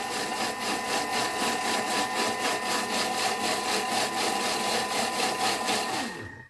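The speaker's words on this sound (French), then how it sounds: "Et je vais mixer vitesse 5." A food processor grinds hazelnuts into paste at speed 5, a steady loud motor whir with a rhythmic pulsing churn throughout, winding down and stopping at the very end.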